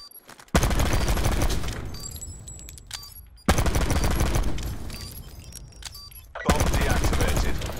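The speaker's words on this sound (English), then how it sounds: "Listen to that revolver, dude. Look at how fast that thing shoots." Rapid gunfire bursts from a revolver in Black Ops 4 Search and Destroy, loud and dense, arriving in three long volleys with short pauses between them.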